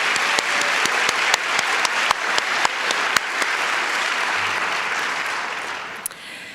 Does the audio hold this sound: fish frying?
no